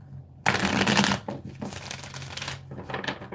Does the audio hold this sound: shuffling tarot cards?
yes